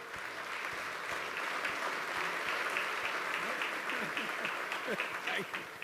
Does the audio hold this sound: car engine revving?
no